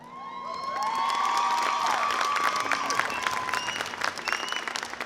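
Loud, sustained applause and cheering from a crowd honoring seniors at a high school basketball game, with whoops and shouts rising over continuous clapping that holds steady to the end.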